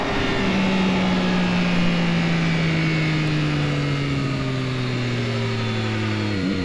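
A Yamaha XSR900 motorcycle engine on a test ride, recorded onboard, roars loud and close as it pulls up through the revs, the pitch climbing steadily until a quick shift near the end.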